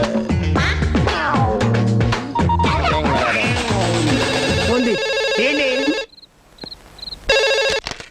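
A telephone rings in short repeated bursts near the end, after several seconds of busy music and voices.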